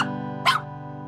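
A nine-week-old puppy gives a single short, high yip of a bark, close and clear over a steady background hum.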